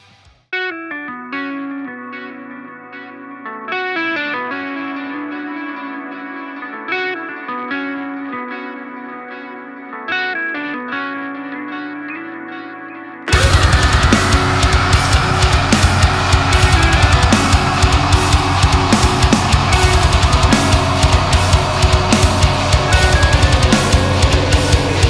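Modern metal song played on an Ernie Ball Music Man JP15 guitar in standard tuning opens with cleaner, effect-laden picked notes, then bursts into a loud, dense, heavily distorted riff with a driving pulse that holds to the end.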